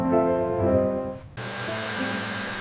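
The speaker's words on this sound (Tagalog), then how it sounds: "I use a hair dryer to dry my hair." A hair dryer switches on partway through, following a tonal, harmonic hum, then blows as a steady, close, broadband rushing whoosh.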